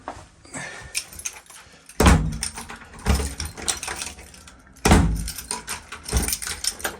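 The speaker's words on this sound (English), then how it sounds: "now the door's closing nicely" Front door fitted with a night latch being closed and worked, with two sharp, loud slams each followed by rattling metallic clicks of the latch mechanism and keys, plus lighter fiddling sounds between.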